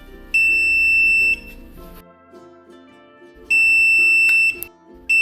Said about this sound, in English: hold down the Learn Code button until the 4th beep